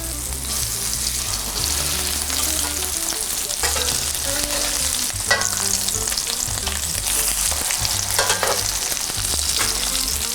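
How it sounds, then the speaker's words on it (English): Shrimp burger patties sizzle and fry steadily in a hot pan, a continuous crackling hiss with low tonal music running beneath, no talking. "I wanna make sure they're crispy, and I wanna make sure that they're cooked through"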